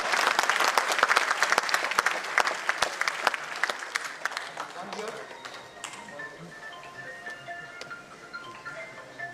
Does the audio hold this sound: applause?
yes